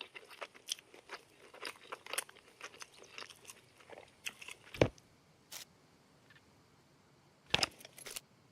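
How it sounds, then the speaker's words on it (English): Gun magazine reloaded in the survival game Scum, heard as a quiet run of small clicks and metallic rattles, then two sharper louder snaps near the middle and end. "I have got to reload my mag."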